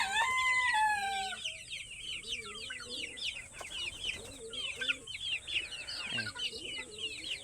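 Desi chickens cluck and chatter close by in a busy flock, overlapping calls and chirps with a rooster-like call at the start, with a faint voice in the background.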